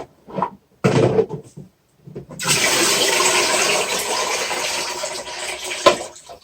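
A Milwaukee vacuum cleaner slurps up water in a steady, rushing hiss that runs for several seconds, after a few brief knocks and bumps.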